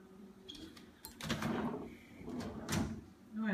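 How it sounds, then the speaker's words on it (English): Cabinet doors with pneumatic hinges in a home for sale swing open and shut, giving soft airy whooshes and muffled thumps a few times, close in a quiet room. "Oh, it has the pneumatic doors too."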